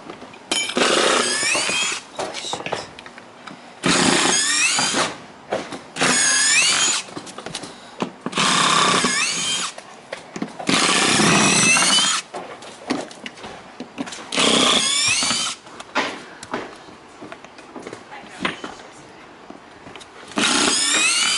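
A power drill drives screws during a roof demolition in repeated loud, close whirring bursts of a few seconds each, separated by short quiet gaps, with no voices.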